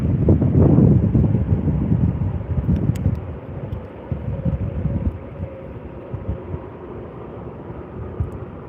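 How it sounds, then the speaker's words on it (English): An airliner, OGA, taxiing out for departure to Melbourne, heard as a steady low rumble mixed with strong wind buffeting on the microphone, loudest at the start and then holding at a constant, moderately distant level with no talk. "We've got OGA right now, taxiing out to depart down to Melbourne"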